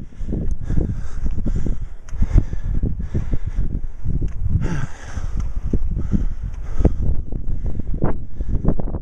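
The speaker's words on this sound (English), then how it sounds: "Now you're not going to be able to hear me because of the wind." Wind gusts across the open hillside of Moel Hiraddug, loud rumbling buffets hitting the microphone in uneven surges, with a hiss of air running behind them throughout.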